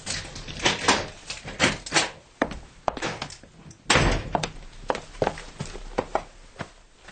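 A door opens and closes as a sound effect in a Korean radio drama reading of a short story, heard as a busy run of close wooden thunks, knocks and shuffling steps spread across several seconds, with no talking.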